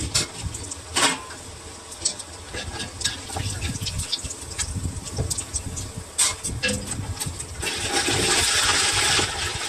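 Chicken pieces fry in hot oil for an Andhra-style chicken pickle, a steady sizzling hiss with bursts of crackle and spatter close by, growing louder toward the end.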